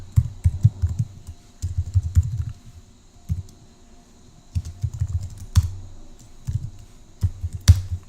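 Computer keyboard and mouse clicks come in quick irregular bursts with brief pauses, close and fairly quiet, while numbers are added to a data set.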